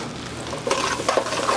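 Potatoes go into a hot pan already frying squash and onion, with a steady sizzle that grows louder as pieces drop in and get stirred, no voices.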